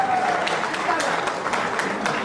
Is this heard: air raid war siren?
no